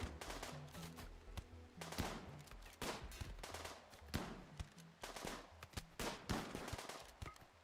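Video game gunfire from enemies shooting back at a cannibal-hunting shooter scene: dense, repeated bursts of shots and rapid machine-gun fire, loud and close, crackling continuously throughout with no talk.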